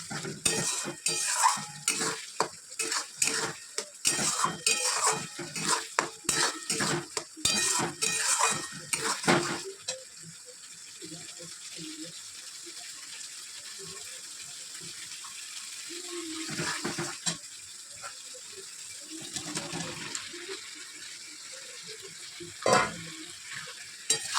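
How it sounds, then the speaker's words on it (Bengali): Young jackfruit being stir-fried with turmeric, salt and spices in a pan: busy sizzling with repeated scraping and clattering stirs for the first ten seconds, then a softer simmering hiss broken by occasional utensil knocks. "এবার তুমি এঁচড়টা দিয়ে ভালো করে কষিয়ে একটু ঝোল ঝোল রাখবো"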